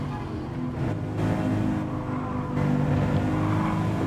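Subaru WRX race car in Gran Turismo Sport, engine droning steadily at high revs down a straight with slight pitch shifts, loud and continuous, no talking.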